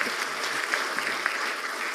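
Audience applause at an academic debate panel with a professor and Anies, a steady broadband patter of clapping lasting about two seconds at moderate level, with faint voice traces underneath.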